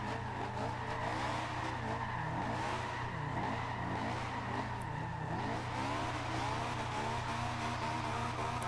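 Honda S2000 drift build in Forza Horizon 2 sliding around, a sustained engine drone with wavering tire squeal throughout, steady and continuous.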